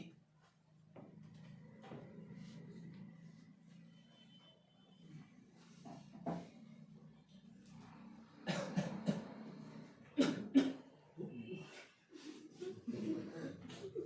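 A series of short, sharp coughs breaks through quiet background talk, growing louder and more frequent toward the end.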